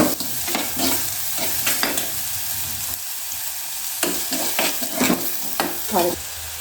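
Chopped tomato and green chilli sauté in oil in a pan, giving a steady sizzle broken by repeated scraping strokes of a spoon stirring them around, close and fairly loud, with no talking.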